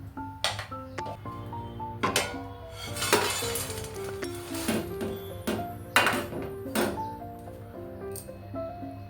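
Roasted poha is tipped from a pan onto a plate, giving a run of light clinks and metallic pings of utensil against plate. The bright taps come close, at an irregular pace, with no talking.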